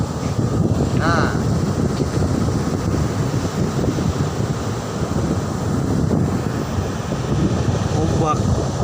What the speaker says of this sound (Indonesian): artinya ombak besar